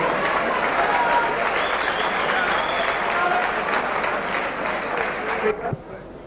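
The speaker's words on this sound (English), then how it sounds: "give Rachel Purdy a big round of applause." Dense, loud crowd applause at a kickboxing event during a trophy presentation, a steady wash of many hands clapping with some cheering voices that cuts off abruptly near the end.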